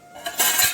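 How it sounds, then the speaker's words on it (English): A lid closes on a cooking pot of millet vegetable khichdi, a short metallic clink and rattle lasting under a second, close and clear. "You close the lid"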